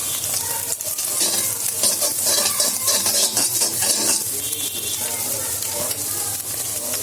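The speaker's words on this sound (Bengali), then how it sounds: "রসুন কুচি দিয়ে দিব।" Chopped garlic frying in a hot pan gives a loud, steady sizzle with stirring scrapes throughout, close and continuous with no talk.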